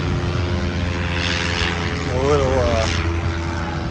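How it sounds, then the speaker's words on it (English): A propeller seaplane fitted with pontoons drones overhead at an outdoor theme park, a steady loud engine roar with a brief pitch sweep as it passes, and a voice speaking over it. "That's a seaplane."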